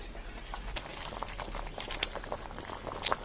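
Rice for prawn biryani boils in a pot, giving a soft, steady bubbling and popping that stays faint and continuous throughout, with no voices.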